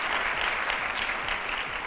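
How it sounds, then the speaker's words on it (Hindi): Studio audience applauding to welcome the vice-captain of Pakistan's national football team onto a morning talk show, a steady, dense wash of clapping that holds evenly throughout. "उनको वेलकम करते हैं जी तालियों में"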